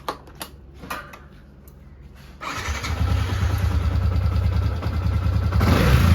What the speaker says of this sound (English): Lastly, the engine is start